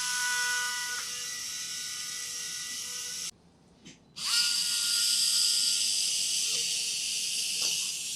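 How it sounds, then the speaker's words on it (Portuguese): Surgical drill re-drilling fixation holes with a larger-calibre bit during 3D-guided mandibular reconstruction, a steady high whine running continuously with one brief pause before resuming. "agora eu vou só repassar esses furos aqui rapidinho com a broca de maior calibre"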